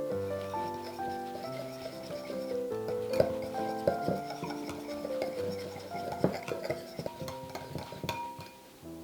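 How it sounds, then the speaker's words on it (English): A whisk clinks and taps rhythmically against a bowl while mixing a simple dressing with ground black pepper, close and fairly quiet, with some tonal ringing from the bowl. "Let's whisk to combine."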